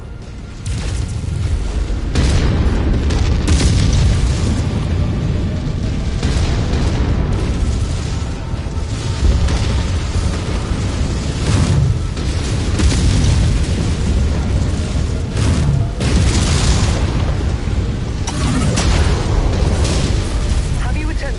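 Explosions from a tank being destroyed in a mech combat video game, heavy booms and rumbling blasts repeating throughout at high volume, with voices talking over the battle.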